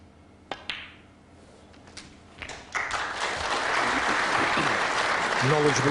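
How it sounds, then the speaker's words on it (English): Snooker audience applause at a 2002 semi-final between Hendry and O'Sullivan, a few taps of ball contact first, then clapping swelling and sustaining, with a commentator speaking. "Knowledgeable applause"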